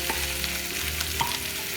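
Potatoes fry in a pan with a loud, steady crackling sizzle, close by, broken by a few brief sharper pops and scrapes.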